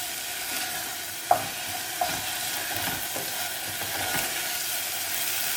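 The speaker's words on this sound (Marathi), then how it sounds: "हो मसाला आमी हितून बरो मिक्स करूया" Green masala for Goan mackerel cutlets is stirred in a pan, a steady sizzle with a couple of sharp utensil knocks against the metal and soft repeated scraping, heard up close without talk.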